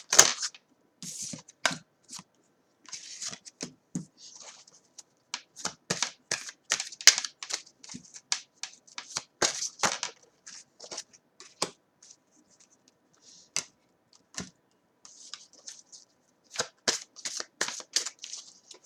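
Tarot cards shuffled by hand in bursts of crisp riffling and papery slaps, with brief pauses between rounds, close and fairly quiet, no talk.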